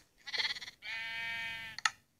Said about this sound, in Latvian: Aizvarieties jūs, aitas.